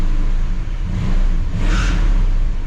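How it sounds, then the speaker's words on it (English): A 1959 Chevrolet Bel Air engine is given a little gas while running: a steady, close idle rumble swells into a brief mid-range rev, with no talk over it. "Give it a little gas, get the oil pressure up"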